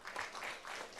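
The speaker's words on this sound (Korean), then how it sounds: "더불어민주당 부울경 메가시티 특별위원회 출범식을 여러분의 큰 박수로" An audience at the Democratic Party's Busan-Ulsan-Gyeongnam megacity special committee launch ceremony claps briefly. The applause is faint and distant, a soft wash of hands.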